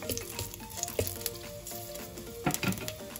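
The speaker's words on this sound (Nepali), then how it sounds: "मैले यसमा एउटा सानो लसुन राख्दैछु अनि एउटा सानो टुक्रा अदुवा। एकछिन चलाइदिउँ।" Garlic and ginger sizzle steadily in hot oil in a pan, with a few scrapes and knocks of a stirring utensil near the end, close and fairly loud, with no voices.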